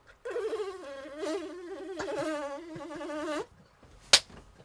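A voice imitates a baby fly, with a steady, wavering, high-pitched buzz held for about three seconds, loud and close, then a brief sharp click near the end.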